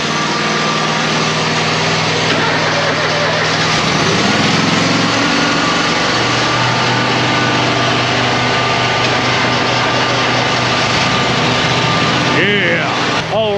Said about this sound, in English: we'll let the mowers do their thing and warm up.